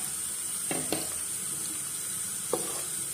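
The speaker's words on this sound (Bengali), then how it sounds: "পেঁয়াজ বাটাটাকে খুব ভালো করে আমাকে ভেজে নিতে হবে।" Onion paste frying in hot ghee, a steady bright sizzle with a few soft scraping stirs of a spoon in the pan.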